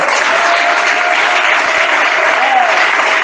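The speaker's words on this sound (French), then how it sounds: "Acclamons le Seigneur." A church congregation claps and applauds loudly and continuously throughout, a dense, even roar of hands with a faint voice beneath.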